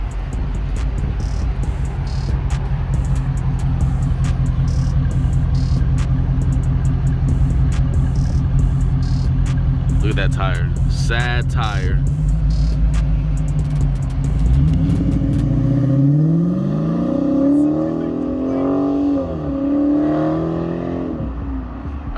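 Dodge Challenger Scat Pack with its active exhaust deleted, a deep steady rumble near the rear that swells into a revving launch as the car pulls away, with brief talk partway through.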